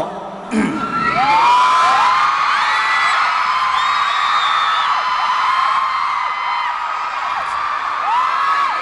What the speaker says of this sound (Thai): ถ้าฟังจากเสียงกรี๊ดนี่ก็คอนเสิร์ตที่ได้เหมือนกันนะเนี่ย